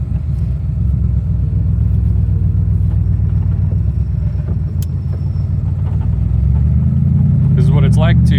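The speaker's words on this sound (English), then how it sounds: "This is what it's like to drive a Daytona Coupe." A Shelby Daytona Coupe engine rumbles steadily from inside the cabin while driving, a loud and constant low drone that rises in pitch near the end as the revs climb.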